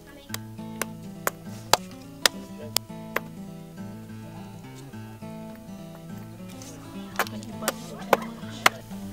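A rock striking a shell on the shore at One Arm Point in Bardi Jawi country: about ten sharp, separate knocks at an uneven pace, close and loud, over a steady low droning background.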